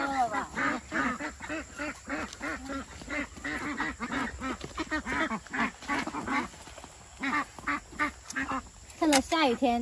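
A farm duck keeps up a rhythmic run of loud, nearby quacks, one call after another, while someone talks over it.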